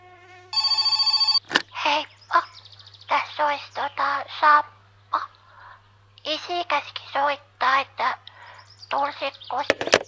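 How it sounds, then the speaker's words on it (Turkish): A telephone rings in the My Summer Car video game with one sharp electronic burst, followed by someone talking. "Aha telefon çalıyor."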